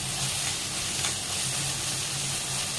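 Spices and masala for chole fry in a pan with a steady, close sizzle and hiss that carries on without a break.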